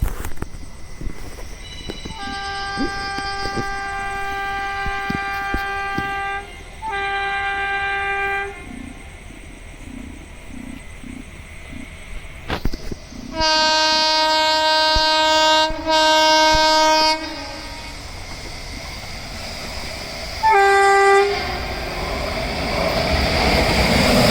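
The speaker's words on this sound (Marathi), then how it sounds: "ट्रेन येते." The Tutari Express pulls in with repeated loud horn blasts over the rumble and clatter of the rolling coaches, close by and sustained; no voices.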